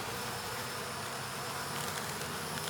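Steady, dense buzzing of many honey bees up close at a hive, continuous and even throughout with no voices.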